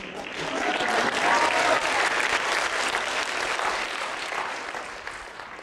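A theater audience claps together in a steady, dense wash of applause that swells and then eases slightly, with no speech over it.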